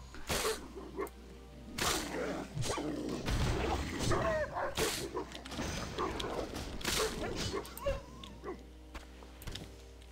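Dogs barking and yipping in World of Warcraft, repeated short barks and whimpers scattered across a dense background of combat clatter, fairly close, with no talk.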